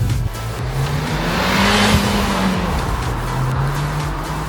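A Ford Fiesta ST with 185 horsepower is driven hard, its engine note holding a steady tone that rises and eases, with road and wind roar throughout the whole stretch.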